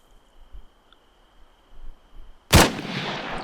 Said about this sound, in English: Alright, now shoot.